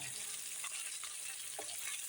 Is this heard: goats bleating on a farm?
no